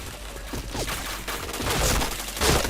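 Rapid gunfire in a shooter video game, a string of sharp shots arriving in quick bursts at moderate loudness, with no talking over it.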